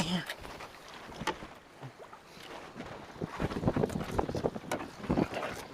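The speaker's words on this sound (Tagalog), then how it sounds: "At lumakas na yung hangin amihan!" Strong wind buffets the microphone in uneven gusts, with a boat's ambience and occasional distant voices beneath the roar.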